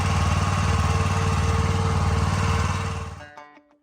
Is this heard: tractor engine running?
yes